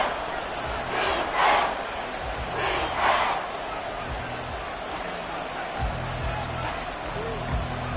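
An NFL stadium crowd at a Falcons vs Panthers game cheers as a steady background roar, with a couple of louder swells. A commentator talks over it.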